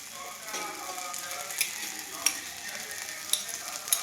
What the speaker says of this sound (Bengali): দিয়ে একটু ফ্রাই ফ্রাই করতে হবে, হালকা তেল, একদমই তেল কম দেয়।